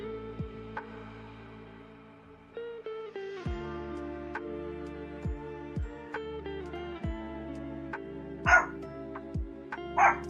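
Small dogs yip and bark indoors in short separate bursts that start sparse and grow closer together, with a louder pair of barks near the end, all set against a soft electronic tonal backdrop.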